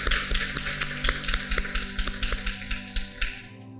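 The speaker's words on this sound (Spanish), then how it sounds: "vamos a darle un aplauso al Señor fuerte" A church congregation applauding, with a steady run of sharp claps over a sustained organ-like tone that trails off at the end.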